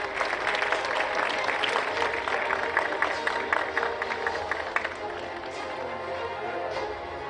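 An audience applauds at an award ceremony for IndiaSoft 2025 and the India Electronics Expo, with sustained dense clapping from a large crowd, steady and loud throughout.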